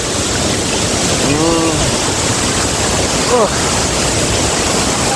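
Steady rushing water roars continuously, close and loud, with a couple of brief voice-like tones rising above it.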